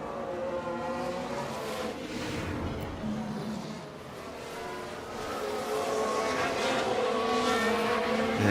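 Formula One cars roar past in F1 Manager 24 at a Singapore night race, engine notes rising and falling as the cars sweep by continuously with no pauses.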